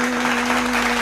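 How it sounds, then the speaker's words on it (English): Dense, steady audience applause filling a short moment, loud and continuous with a constant electronic hum underneath, no clear voices. "Y'all clap it up for Tuck up in this mother."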